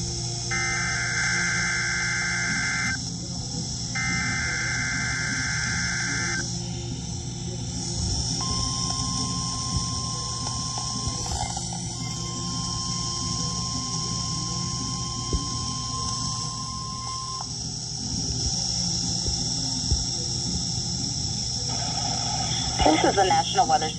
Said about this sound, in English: We have just activated the public warning alarm tone as a test of our weather radio station's warning alarm system.